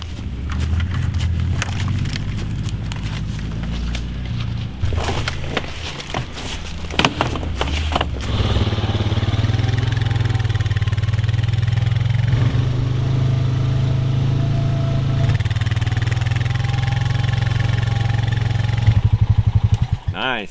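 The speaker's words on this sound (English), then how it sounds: "you can haul it with the four-wheeler" A four-wheeler ATV engine drones loudly and steadily as it hauls a load uphill on a homestead, with rumbling revs, some clanks early on and a throttle surge near the end.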